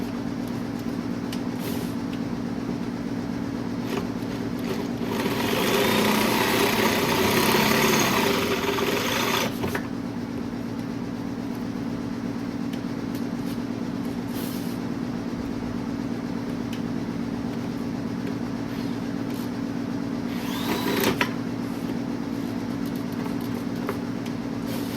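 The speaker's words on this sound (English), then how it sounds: "This isn't a variable speed drill either, it just goes wide open" A non-variable-speed electric drill runs wide open while installing a tank on a Servi-Car, a steady motor whine with a louder burst partway through and a brief spike near the end.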